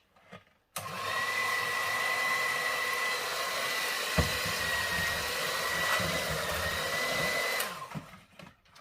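A steady electric whirring starts abruptly, runs loud and continuous for several seconds, then cuts off, as an electric mixer beats chocolate cake batter close by.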